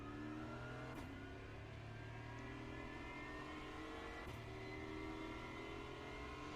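GT4 race car in the iRacing sim at Spa-Francorchamps, its engine revving up steadily through the gears with a couple of quick upshifts, loud and continuous with no talking.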